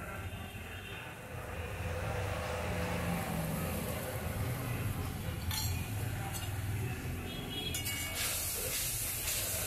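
Spice paste with water hits hot oil in a pan for a cauliflower and egg curry, raising a loud, steady sizzling hiss that swells after a moment and continues with faint clinks.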